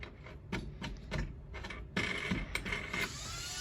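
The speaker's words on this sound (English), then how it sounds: "you can hear my hubby in the background assembling some tension bars for some orders" Faint background clicks and metallic taps come from someone assembling tension bars for bead looms, irregular and quiet throughout.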